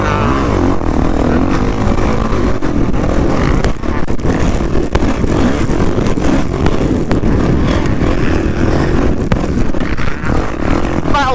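Motocross bikes racing on the sand track at Haverigg during a pro day: a loud, continuous roar of two-stroke engines revving and shifting close by, with wind buffeting throughout.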